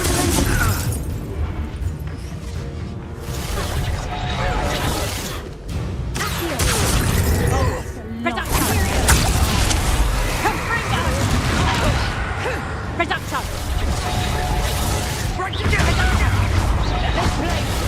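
Confringo fire spell blasts burst in Hogwarts Legacy combat, repeated loud explosive booms scattered through a busy battle mix of spell impacts and effects, with voices calling out over it.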